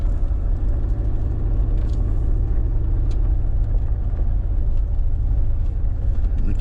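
A vehicle drives slowly through Black Dragon Canyon in the San Rafael Swell, a steady low engine rumble and road noise heard from inside, continuous and even, with no talking.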